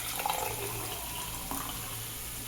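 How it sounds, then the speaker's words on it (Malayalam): Water is poured from a glass into a pot of cooked masala for soybean pulao, giving a continuous close splashing rush that runs steadily throughout. "നമുക്ക് വെള്ളം ഒഴിക്കാം കേട്ടോ. അപ്പം ഞാൻ അതേ ഗ്ലാസ്സിനാണ് അളന്നൊഴിക്കുന്നത്."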